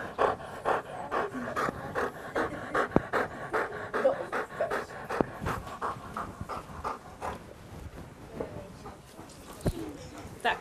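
A bulldog pants rapidly and steadily close by, its quick rhythmic breaths continuing throughout, with faint background noise and occasional soft sounds.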